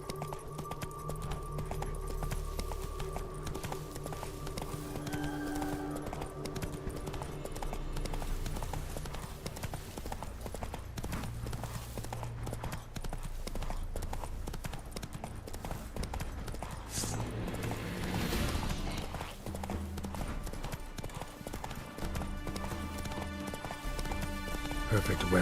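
The horse Roach gallops in The Witcher 3, its hooves drumming in a steady rhythmic clip-clop throughout, with game music and a voice talking over it.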